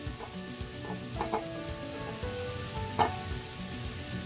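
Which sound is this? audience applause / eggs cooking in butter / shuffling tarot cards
eggs cooking in butter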